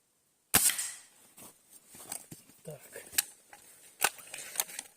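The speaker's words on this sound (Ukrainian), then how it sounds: "перший постріл щось незручно було" A sharp shot from a Hatsan 125 air rifle with JSB pellets at 20 metres rings out, followed by handling clicks and a second crisp shot later, with quiet mechanical rattles in between.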